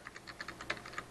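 Rapid typing on a computer keyboard, about a dozen quick, light key clicks in an even rhythm, close and fairly quiet with no talk.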